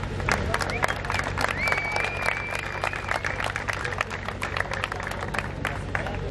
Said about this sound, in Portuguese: Pá, também merece uma salva de palmas